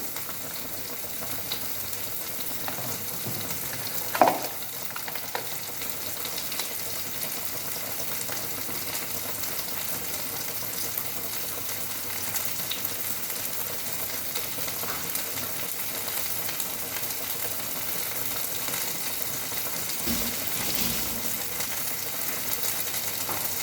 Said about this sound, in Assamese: পিঁয়াজ অকণমান ভাজি দিওঁ।